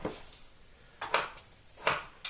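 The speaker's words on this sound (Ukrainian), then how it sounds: "Беремо отак от, ріжемо шматочками такими." A knife chops a horseradish root, kept a while in a cellar and slightly withered, into centimetre pieces, leaving three or four short, crisp cuts spaced about a second apart, close and fairly quiet.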